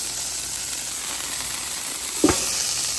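Brisket burgers sizzle on a Blackstone griddle in a steady, close frying hiss, broken once near the end by a short scrape or clunk of a spatula.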